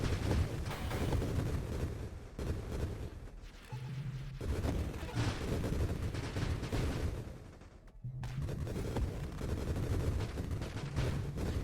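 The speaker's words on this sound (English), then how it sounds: "Fire shield putting in great work there with those rockets" Rockets firing in the space shooter Nova Drift, a dense continuous barrage of blasts and rumbling explosions with brief lulls, loud and close throughout.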